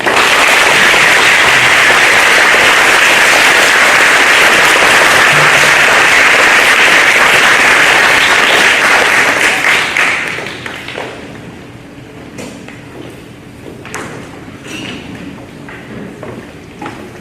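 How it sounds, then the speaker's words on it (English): Loud, sustained clapping from an audience at a school third grade awards ceremony fills the first ten seconds, then fades into scattered claps, taps and thuds. "please join me in a round of applause for our third grade students."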